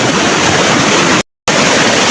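A river's strong current rushes loudly and close by, a thick, constant roar of water broken by one brief moment of silence before it resumes at full strength.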